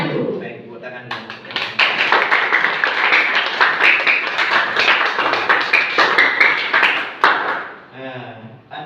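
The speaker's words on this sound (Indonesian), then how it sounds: "tepuk tangan dulu." Students in a school classroom clap their hands together in a loud, close burst that lasts several seconds, with children's voices before and after it.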